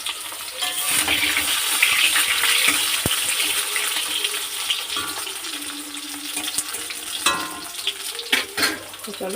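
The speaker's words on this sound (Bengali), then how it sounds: "তো এই যে তেল গরম হয়েছে, পটলটা দিয়ে দেবো তেলের মধ্যে।" Pieces of pointed gourd (potol) fry in hot oil, giving a steady, bright sizzle throughout. Occasional knocks and clatters of stirring rise near the end, with no speech.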